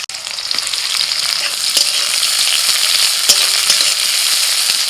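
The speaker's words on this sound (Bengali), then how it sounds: "আর তেলের মধ্যে দিয়ে দিচ্ছি পেঁয়াজ কুচি।" Chopped onion fries in hot oil in a wok, a loud, steady sizzle with a few faint clicks of stirring and no talking.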